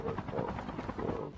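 Helicopter rotor chop in Call of Duty Mobile, a dense steady thrum close by, loud and continuous across the moment with faint talk mixed in.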